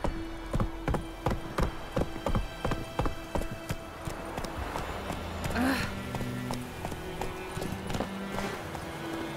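Roach, the horse in The Witcher 3, clip-clops in rhythmic hoofbeats that slow and fade into softer ambience, with a brief voice and a faint whinny.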